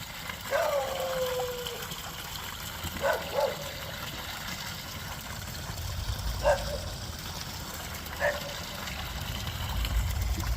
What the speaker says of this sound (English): And here's the artesian well.